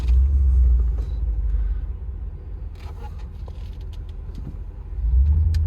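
A 2014 Mercedes G550 on brand new 275/70R18 tires drives along, with a deep, steady interior engine and road rumble that swells and eases slightly, with faint clicks.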